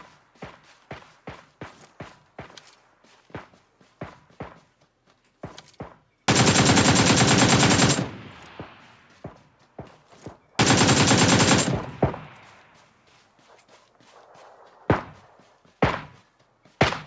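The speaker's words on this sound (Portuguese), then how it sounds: "Tem alguém me atirando de muito longe." Gunfire in the online shooter PUBG Lite: two long, loud sustained bursts of automatic fire stand out amid scattered sharp single shots and thuds, all without talk.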